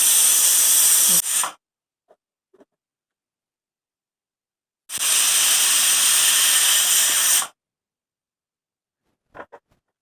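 A pressure cooker cooking curry vents steam in two loud, close hissing blasts, the first fading out after about a second and a half, the second lasting over two seconds, separated by near silence with a few faint clicks.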